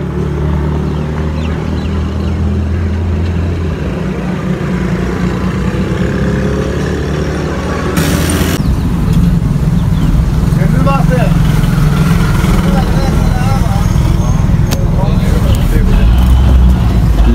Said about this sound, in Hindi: ये चल पड़ी है, लोकल बस ये।